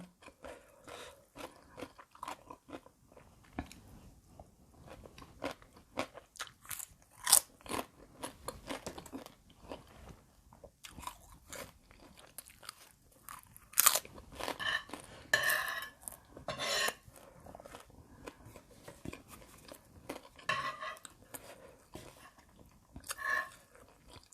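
Crunchy chewing of a vegan som tam salad made with pounded carrot and puffed rice, close to the mic, with repeated bites and crisp crackles in irregular bursts and no talking.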